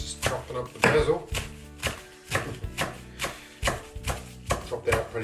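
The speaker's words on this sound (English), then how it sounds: "Alright, just chopping up the basil." Knife chopping fresh basil on a cutting board for spicy pesto, a quick, uneven run of close thuds and taps that continues throughout.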